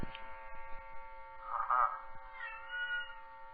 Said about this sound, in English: that's my cat saying hello to you